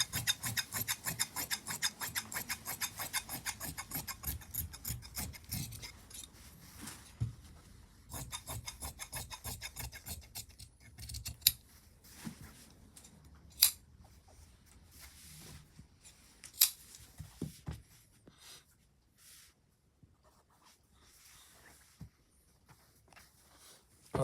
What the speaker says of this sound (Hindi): इस तरह कटिंग करने के बाद बैक की कटिंग कर लेंगे।